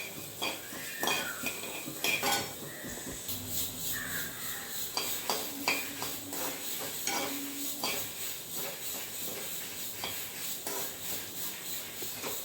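Sambar spices roasting in a metal pan on the stove, a spoon scraping and clinking against the pan steadily for several seconds, with a soft sizzle underneath and no talk.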